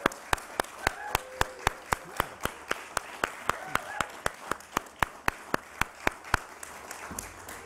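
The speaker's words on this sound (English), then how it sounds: "So let's give a round." An audience claps at a Nasdaq closing bell ceremony, a steady run of distinct, evenly spaced claps over faint room noise, moderately close with no cheering audible.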